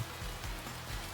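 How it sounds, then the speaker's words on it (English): Steady rain falls as a sound effect in an audio drama, a soft continuous hiss of drops on a surface with faint low rumble, quiet and alone with no voices. "And now it's raining."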